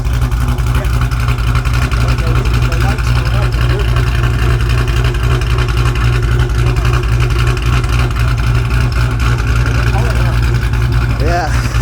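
Car engine running just after a first startup with NSR camshafts on a bass tune, a loud, deep, continuous rumble with a choppy, lopey idle throbbing steadily throughout.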